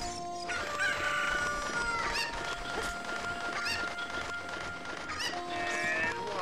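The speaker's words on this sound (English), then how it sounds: "That chicken there, not called chicken, cuckoos." A cucco chicken in Zelda Ocarina of Time crows and clucks repeatedly, with several bursts spread across the scene over background game music.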